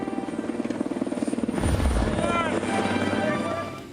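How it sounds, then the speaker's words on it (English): A rescue helicopter comes in, its rotor chop loud and close and swelling to a peak midway before easing slightly, with faint voices underneath. "It's a helicopter, I know it is."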